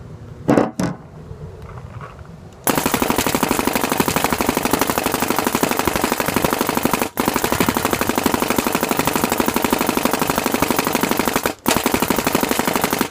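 A Planet Eclipse GSL paintball marker fires in a long, steady full-auto stream of rapid, evenly spaced shots, loud and close, with two brief pauses and a few separate pops at the start.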